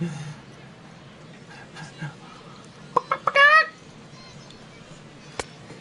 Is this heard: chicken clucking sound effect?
yes